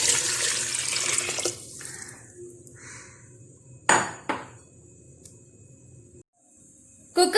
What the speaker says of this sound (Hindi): अब हम पानी डाल के कुकर लगा लेते हैं ताकि गोश्त हमारा गले।